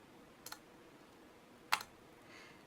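A computer mouse clicked on buttons: two faint, separate clicks about a second apart, the first a quick double tick and the second sharper, in an otherwise quiet room.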